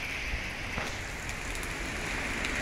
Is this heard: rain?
yes